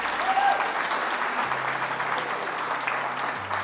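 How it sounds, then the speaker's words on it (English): An audience at a food justice honoring event applauds steadily, a dense, fairly loud wash of many hands clapping with no talking over it. "Let's give them a big round of applause."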